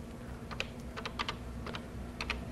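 Keys clatter on a Color Computer keyboard, a short run of light plastic taps in small irregular clusters, close up and fairly soft against a steady low background hum, with no talking.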